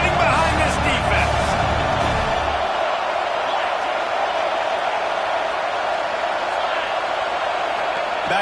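A football stadium crowd roars in support of the home defense before a big third down in the red zone, a broad continuous distant wall of cheering under a close-miked commentator talking throughout.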